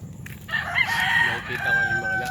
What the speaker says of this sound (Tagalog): tumilaok na yung manok.